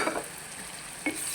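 Chicken frying in a pan with garam masala for a spicy Bengali-style chicken bhuna makes a close sizzle, with a quick stirring scrape at the start and another partway through.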